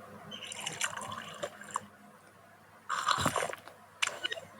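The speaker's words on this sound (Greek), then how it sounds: "Να πιω τώρα από τη βρύση." Water runs from a kitchen tap in soft, uneven splashing bursts, close by and fairly quiet, with brief gaps between flows.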